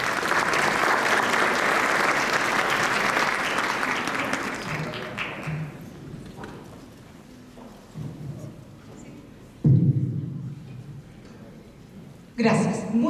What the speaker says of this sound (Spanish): Le damos un fuerte aplauso, por favor.